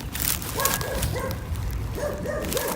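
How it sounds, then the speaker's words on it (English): A neighbor's dog barks repeatedly in short, yelping bursts, fairly near and loud over background noise, with no talk. "forgive me with the dog barking"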